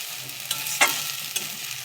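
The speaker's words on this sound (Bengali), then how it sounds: "আমি মশলাটাকে ভালো করে ভাজবো" Spices fry in excess hot oil that spatters about, a steady close sizzle with a couple of sharp stirring scrapes, no voices.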